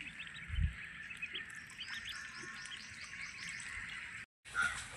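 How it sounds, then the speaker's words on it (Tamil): Many thin, high peeps from ducklings chirping continuously together, with a low thump near the start and a brief dropout near the end. "வாத்து குஞ்சு எல்லாம் தண்ணிக்குள்ளே ஓட்டி விட்டோம்"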